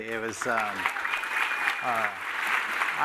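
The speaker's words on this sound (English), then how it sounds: "just a quick round of applause for all the speakers today." Applause from a conference audience continues under a speaker's voice, with the clapping steady and moderate in the background as she begins talking.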